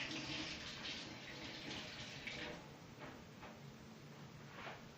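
Water runs steadily from a kitchen tap while a Moroccan tajine is prepared. It gives a soft, continuous hiss at close range with a few faint knocks, and no one speaks over it.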